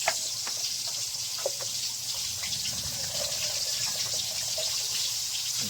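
Water runs steadily from a tap with a constant splashing rush, a few faint clinks over the flow.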